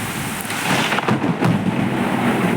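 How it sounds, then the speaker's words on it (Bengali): Loud thunder rumbles and cracks through a heavy afternoon rainstorm with gusty wind, while dense rain roars steadily underneath the whole time. "কিভাবে বজ্রবিদ্যুৎ হচ্ছে দেখো"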